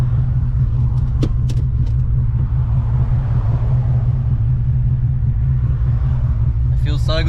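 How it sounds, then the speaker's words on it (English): A noisy differential on an LS1-swapped VN Commodore while driving, heard as a loud, constant low drone and road rumble from inside the cabin that holds steady throughout. "I've forgotten how goddamn noisy this diff is."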